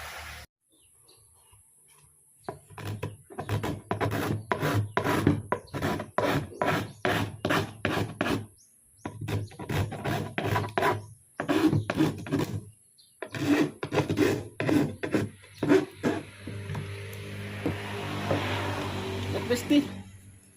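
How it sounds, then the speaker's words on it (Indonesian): A hand file rasping along the HPL laminate edge of a drawer, fast rhythmic back-and-forth strokes in close bursts with short pauses, loud and near. "Kita kikir macam seperti ini, kita kikir begini ya besti, sampai dia halus."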